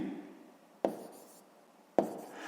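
Pen strokes on paper while working a sixth-grade math exercise, a soft close scratching that fades, broken by two sharp taps as the pen touches down, quiet and without talk.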